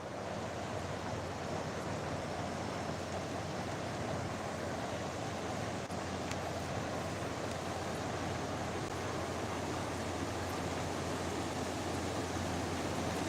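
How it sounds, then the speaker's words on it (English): A river flowing past a riverfront park by a swinging bridge, a steady, even rush of water filling the whole stretch, with no voices. "I love the sound of the water though"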